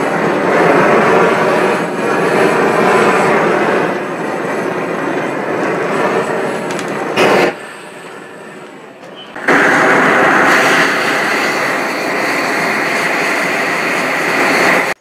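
A homemade forge lined with rigidized refractory roars as it fires up. The loud, steady rushing burn drops out for about two seconds, then returns at full strength.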